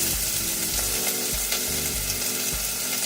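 Onions and red peppers sauté in a pan, giving a loud, steady sizzle with recurring scraping clatter from stirring, heard up close and with no talking.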